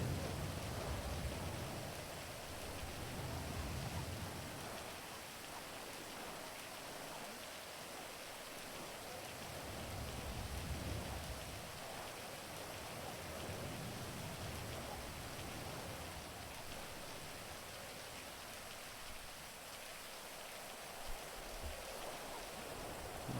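Steady rain falling in a roleplay video game, a continuous hiss of even downpour with slow swells in the low rumble, heard alone without talk.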